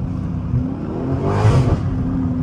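Dodge Demon car engine revving loudly through a curve, a close-up roaring engine note that swells toward the middle and then holds, with no speech.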